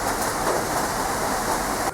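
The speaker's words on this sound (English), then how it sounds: "how beautiful it is when it's raining on the balcony" Steady rain pours onto a balcony, a dense, even hiss of drops that stays loud and constant throughout with no voices over it.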